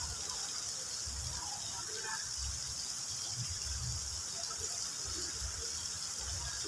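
Steady broadband rush of river water flows continuously at a wild fishing spot, with faint low thumps and no talking.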